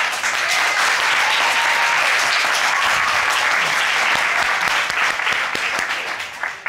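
Loud, steady clapping from a group fills the whole stretch without pause, sustained and close throughout.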